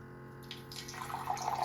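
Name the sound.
water dispensing from Osmo Fresh Fusion Air RO filter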